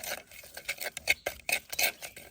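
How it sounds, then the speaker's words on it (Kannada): A spoon stirs churumuri with homemade chili powder and coconut oil in a metal bowl, producing quick, close clinks and scrapes in an uneven rapid rhythm; no talking. "ಒಂದು ಚಮಚದಷ್ಟು ತೆಂಗಿನೆಣ್ಣೆ ಹಾಕುವ ಈಗ ಅದನ್ನು ಚೆಂದ ಮಾಡಿ ಮಿಕ್ಸ್ ಮಾಡಬೇಕೊಮ್ಮೆ"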